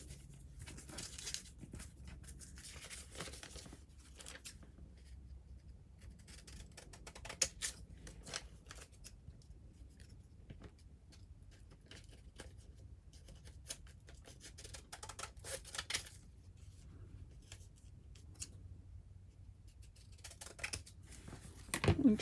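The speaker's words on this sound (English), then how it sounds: "I can take my scissors while it's still drying" Scissors snip quietly around the edge of an altered playing card being crafted, a soft run of small cuts and rustles that stays faint and close throughout, with no talking.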